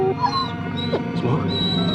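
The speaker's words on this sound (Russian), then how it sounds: "собака что-то чует недоброе" A dog whines and gives a short rising howl in a 1992 horror film scene, fairly close and mid-level over a tonal music-like background, with brief yelps across two seconds.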